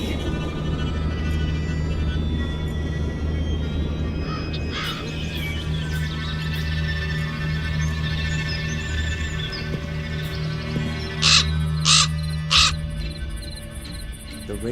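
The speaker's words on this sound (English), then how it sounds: "The raven flew out of a crack in the rock." A raven in the video game Black Mirror II gives a few sharp caws near the end, over a low, eerie ambient drone.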